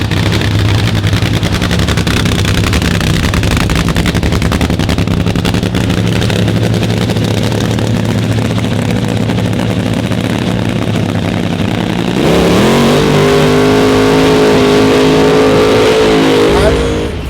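Nitro funny car engines at a 1964-style funny car show, a loud sustained rumbling idle that swells into a sharp, rising rev near the end.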